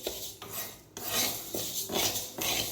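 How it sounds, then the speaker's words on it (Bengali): Mung dal dry-roasts in a pan while being stirred, producing repeated gritty scraping strokes roughly every half second, close and fairly loud with no talking. "এদিকে মুগের ডাল ভাজা হচ্ছে।"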